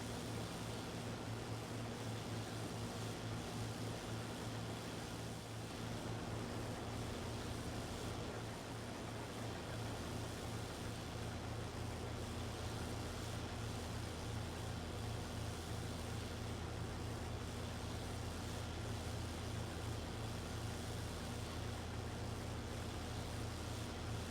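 A tractor engine in Farming Simulator 22 drones steadily far off, a faint, even low hum with no talk over it.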